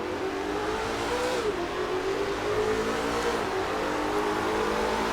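A car engine, apparently the Bond car, revs hard and accelerates under boost, pitch climbing steadily then dropping sharply at each gear shift, loud and close throughout.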